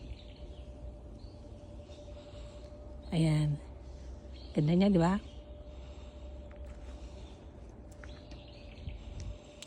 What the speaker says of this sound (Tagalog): Ayan, mga iyak ng ibon. Naririnig natin.